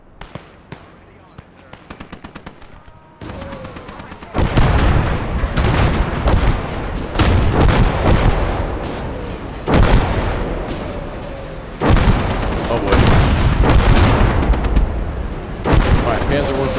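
Battle of the Bulge war video game combat: scattered single gunshots at first, then loud sustained bursts of gunfire and booming blasts in repeated waves, with a voice speaking over the fighting.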